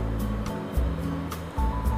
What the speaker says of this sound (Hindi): अब इसमें मैं डालूंगी आधा कप पानी, ग्रेवी को थोड़ा पतला करने के लिए